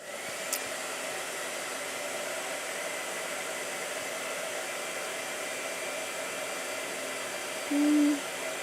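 A hair dryer runs steadily at moderate volume throughout, a constant airy whoosh with a faint motor hum, briefly rising in pitch near the end.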